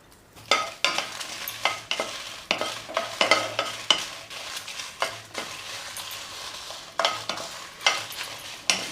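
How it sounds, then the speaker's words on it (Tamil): Dried red chilies frying in hot oil in a pan, a continuous sizzle broken by repeated scraping stirs, about a dozen strokes at an uneven rhythm, close and fairly loud, with no talking. "அந்த எண்ணெயிலே மிளகாய் போட்டு வறுத்து எடுத்துக்கிறேன்"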